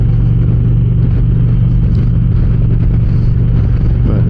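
Indian Challenger Dark Horse motorcycle engine on stock exhaust pipes, a steady low rumbling idle with a deep, even throb, loud and close with no talk over it.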